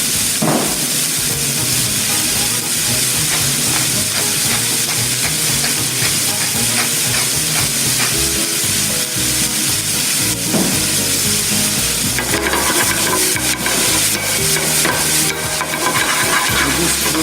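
Garlic and beans frying in a pan, loud close sizzling and crackling with stirring clatter, growing brighter and hissier partway through.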